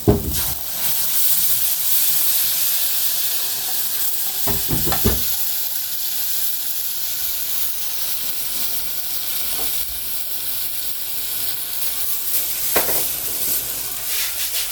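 Masala paste frying in a pan for a Gujarati ridge gourd curry, with a steady loud sizzle and hiss throughout and a few scraping stirs of the spoon near the start and end.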